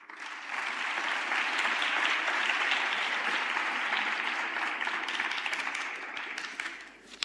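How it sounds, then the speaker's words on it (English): An audience at a youth summit applauds parents with sustained, dense clapping that swells quickly, holds steady for several seconds, then tapers off. "Another hand of applause for your parents."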